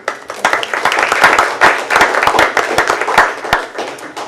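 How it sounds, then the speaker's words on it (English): A room full of people at a school board meeting breaking into applause, dense, steady clapping close by with a few louder claps standing out, lasting about four seconds. "Applause for both of them."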